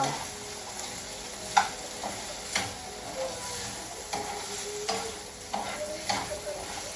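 Potatoes fry in a home pan with a steady low sizzle, broken by several sharp scraping knocks as they are stirred, spaced irregularly about a second apart, close and moderately loud with no talking.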